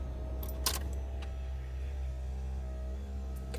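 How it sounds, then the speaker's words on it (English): Keys jangle briefly close by as a truck engine is switched off during a grassland antelope hunt, leaving a low steady rumble that fades under faint clicks. "Let's kill the truck"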